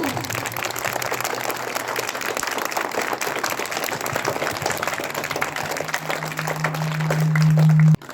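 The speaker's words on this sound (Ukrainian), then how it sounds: "Оплески для наших випускників початкової школи" A crowd applauds primary school graduates at a 2023 last-bell school ceremony with steady, dense clapping that lasts the whole stretch under a faint hum and swells louder just before cutting off.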